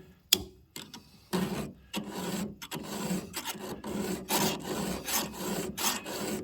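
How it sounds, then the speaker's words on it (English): Hand file rasping across the cutters of a chainsaw chain, close and moderately loud, in a steady series of short scraping strokes with brief pauses between them. "I'm filing until my cutter profiles are the same, and I'm filing until that little burr comes off on this chain."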